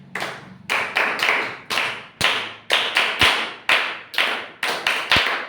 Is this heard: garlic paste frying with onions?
no